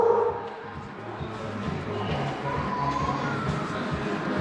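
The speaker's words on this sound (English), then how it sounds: "There's going to be a lot of barking going on." Several dogs bark and yip in a noisy, crowded setting near a truck, a steady jumble of overlapping barks and whimpers that runs through the whole stretch without pause.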